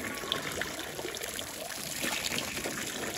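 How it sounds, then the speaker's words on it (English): Water trickles and splashes steadily onto a hot emu's back beside its pool, a soft continuous pouring outdoors with faint background hiss and no talking. "Let's put some water on his back."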